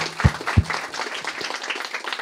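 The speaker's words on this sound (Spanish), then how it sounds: "un fuerte aplauso para ellos" Studio audience applause for a couple on a talk show, a mix of scattered claps with a couple of loud low thumps near the start, then a steady, moderately loud patter.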